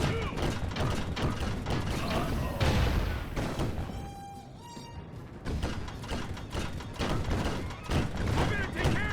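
Sly Cooper 4 combat with cannon blasts, booming thumps and rattling mechanical noise in rapid succession, loud and dense throughout.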